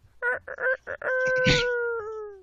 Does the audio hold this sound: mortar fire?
no